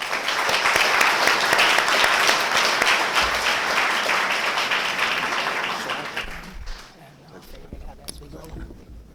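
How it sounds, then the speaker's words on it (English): An audience at a Merritt College nursing program graduation applauds to welcome a speaker, with steady, full clapping for about six seconds that thins out and gives way to quiet room sounds and a voice near the end. "let's give a welcome and an applause for Dr."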